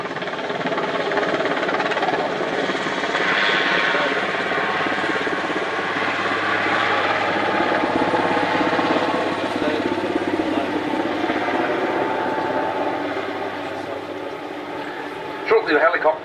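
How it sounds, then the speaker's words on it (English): A Super Puma helicopter in a flying display at RIAT 2014 gives a steady, broad rotor and engine roar throughout, with a commentator talking over it. "Shortly the helicopter will pull up before accelerating."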